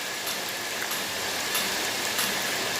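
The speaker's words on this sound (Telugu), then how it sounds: "మా ఊళ్ళో ఎంత వాన పడుతుందో" Heavy rain falls steadily over a village during a storm, a dense even hiss with scattered louder drips and splashes, with no talk.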